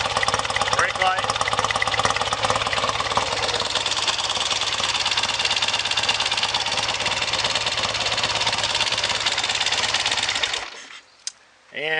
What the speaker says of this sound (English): It's a very strong running engine, very tight top end.